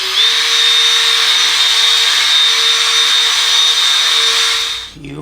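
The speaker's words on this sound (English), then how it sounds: "this is basically the final polishing stage" A power polisher works on a Toyota Tundra headlight during the final polishing stage, a loud steady high whine held for about five seconds before it winds down, no talking.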